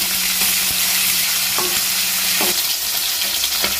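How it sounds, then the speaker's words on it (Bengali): Hilsa fish heads frying in a spiced tempering with green chilies, a steady close sizzle broken by a few scraping stirs of a spatula against the pan. "এই ফোড়নের মধ্যে কিন্তু মাছের মাথাগুলো বেশ উল্টে পাল্টে লাল করে আমি ভেজে নেব।"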